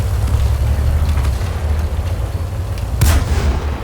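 In World of Tanks, a deep booming 6-pounder tank cannon shot fires over a constant low engine rumble, a single sharp blast near the end.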